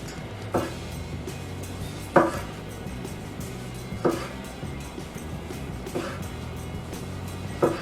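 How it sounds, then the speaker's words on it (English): A knife slices thin through a tomato on a board for a thin crust veggie pizza, five crisp cuts coming at an even pace of about one every one and a half seconds, close and clear. "we're going to take our tomato, all right? I'm just going to slice it"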